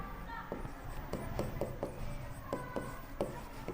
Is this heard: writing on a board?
yes